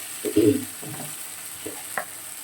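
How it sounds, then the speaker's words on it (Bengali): Ginger, garlic, cumin and onion masala frying in a pan, a steady soft sizzle behind a few low knocks and scrapes of stirring, close by and moderately quiet. "আদা রসুন জিরে পেঁয়াজ যেগুলো মশলা দিয়েছিলাম মোটামুটি একটু কষানো হয়ে গেছে"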